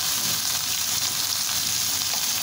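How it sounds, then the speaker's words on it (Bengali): Chopped onion fries in a pan with salt, turning reddish, giving a steady, close hiss and crackle of sizzling oil that stays even throughout with no voices. "তো এই তো পেঁয়াজটা লাল লাল হয়ে আসছে"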